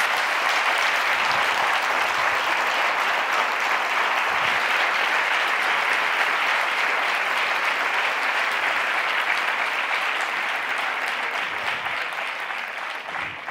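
Sustained, dense audience applause for Dr. Jane Goodall in a hall, loud and even throughout, easing slightly at the end.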